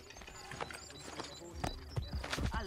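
Horse hooves clip-clop at a trot in Assassin's Creed Brotherhood, with quick repeated thuds over game background sound and a voice speaking faintly underneath.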